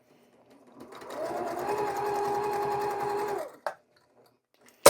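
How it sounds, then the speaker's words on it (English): A sewing machine stitches quarter-inch seams on small quilt pieces in one steady run of about two and a half seconds, close and clear, then stops, with a couple of sharp clicks as the thread is handled. "I'm going to go unit by unit or piece by piece across the rows, sewing these little seams"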